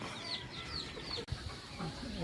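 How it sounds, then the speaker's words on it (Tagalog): Backyard chickens cluck and murmur while being fed in a rural Philippine province, a cluster of soft overlapping clucks and chatter at close to moderate range, with a brief thump midway. "Tapos magpapatuka na rin tayo ng ating mga manok."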